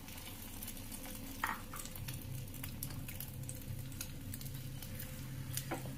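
An egg fries in coconut oil in a pan, with a steady, close crackling sizzle and a few soft sputters, with no talking.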